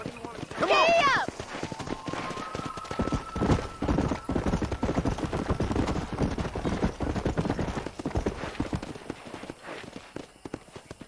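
In the video game Red Dead Redemption, a horse whinnies at the start, then its hooves clip-clop steadily at a run through the rest, with other game sounds underneath.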